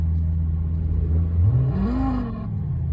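A simulated 5.2 V10 engine revs up through speakers, pitch rising sharply then falling back, with a steady low idle hum throughout.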